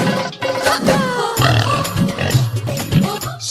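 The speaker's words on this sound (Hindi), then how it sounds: "सोना सुअर बन गई" Pig oinking sound effect in a comedy short, a series of loud, close grunts and squealing oinks in uneven bursts.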